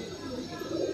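Soft, low cooing of a green high-flyer pigeon, a steady murmuring coo close by that swells slightly toward the end, with faint background hiss.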